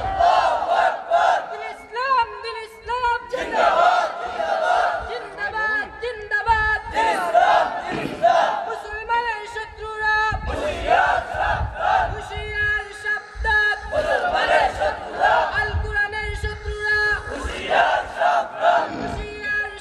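A large crowd at an Islamic religious gathering chants Allahu Akbar in loud, repeated rhythmic bursts, voices surging together in waves with a leading voice calling between them, close and full throughout.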